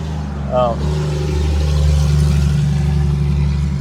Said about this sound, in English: here comes one of those loud trucks